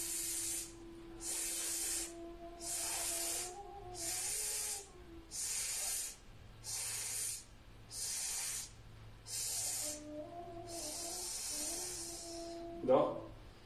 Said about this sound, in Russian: И свистящим с вот таким вот звуком выдыхаем ступенчато